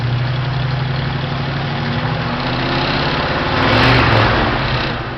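An older pre-1980s car engine rises from a 1,000 RPM idle, the low rumble swelling into a brief rev near the end.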